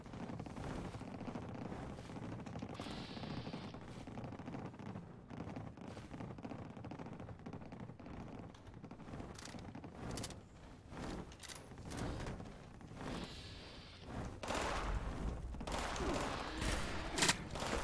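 Repeated gunfire bursts and explosive cracks from a Fallout 76 firefight, irregular shots scattered over a dense, noisy game background throughout.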